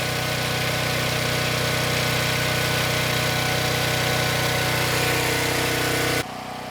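A generator engine powering a homestead house runs loud and steady at a constant idle-like drone, close by, then cuts off abruptly near the end, leaving quieter background.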